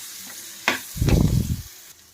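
Beetroot fries in a pan with salt and turmeric: a quick clatter, then a loud burst of sizzling that swells for about half a second and fades out.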